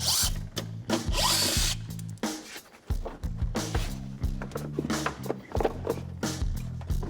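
Power drill running in repeated bursts as it backs out inner fender screws on a BMW 330i being built into an LS-swapped racecar, the motor whine stopping and restarting with brief pauses between screws, close and loud.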